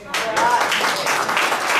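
Audience applause rising suddenly at a candidates' stump-speech event at the High Noon Club, a dense broadband clatter of many hands mixed with some voices, fairly loud and sustained after a brief quieter start.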